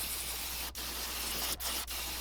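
Steady hiss of an airbrush spraying paint onto a fishing lure, a hickory shad bait, running continuously and close with three brief pauses where the spray cuts out.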